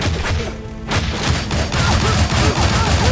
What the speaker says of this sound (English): Just shoot pistols right into your face